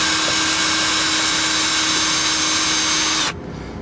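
A power drill runs loud and continuous at a steady high whine while undoing a pressurized fuel clamp on a fuel pump, then stops abruptly near the end, leaving quiet background.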